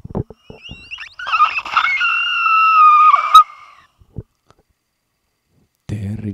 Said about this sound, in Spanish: En eso un grito tan fuerte que lo deja sordo.